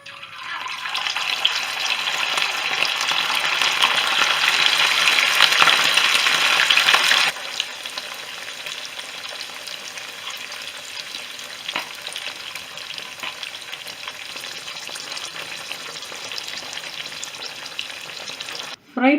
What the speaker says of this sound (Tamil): ஆயில் நல்லா ஹீட் ஆயிடுச்சு. இந்த ப்ரானை ஃப்ரை பண்ணி எடுத்துப்போம்.